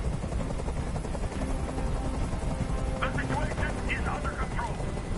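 A helicopter in the video game Detroit: Become Human gives a loud, continuous rotor drone with steady chopping through the whole stretch, while someone talks over it.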